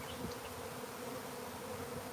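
A swarm of bees buzzes right at the face near blossoming honeysuckle trees outdoors: a steady, dense hum close to the microphone, with no voices.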